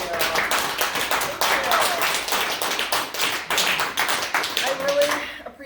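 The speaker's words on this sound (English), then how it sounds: "give us a rousing applause for Tammy K. Clark." Audience clapping at a town hall gathering, a lively burst of sharp overlapping claps with uneven swells, fading out at the end.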